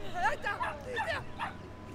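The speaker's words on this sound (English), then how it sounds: "Scared of a little cute doggy." Dog yips and whimpers from the video game Brothers: A Tale of Two Sons, a run of short high barks and whines across two seconds, with voices running underneath.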